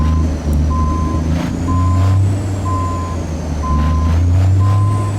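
A truck in American Truck Simulator reverses a trailer loaded with cars, its steady reversing beeps repeating evenly over a loud, continuous diesel engine rumble with a brief air-brake hiss.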